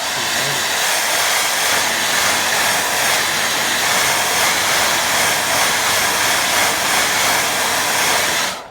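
A hair dryer blows steadily and loudly at close range over a wet watercolour painting, a constant rushing whir with no break that cuts off abruptly at the end.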